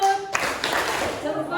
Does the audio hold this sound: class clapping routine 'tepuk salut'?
yes